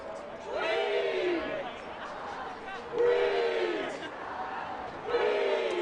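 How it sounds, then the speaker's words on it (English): A crowd at an ultimate frisbee game cheers and chants in repeated rising swells, about three waves of shouting voices from the stands, loud and lively. "You can hear in the background there the crowd here getting involved, getting excited"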